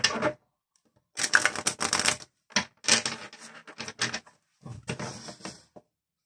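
Oracle cards being shuffled and handled for a Capricorn tarot-style reading, crisp papery riffles and slaps in irregular bursts separated by brief silences, close and moderately quiet with no talk.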